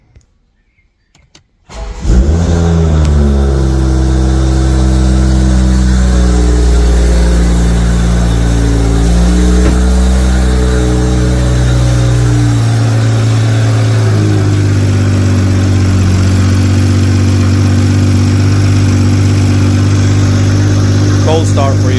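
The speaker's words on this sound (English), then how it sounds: "Cold start for you." A BMW M340i B58 engine cold-starts, cranking and catching, then settles into a steady, loud idle that runs on with a low, even rumble.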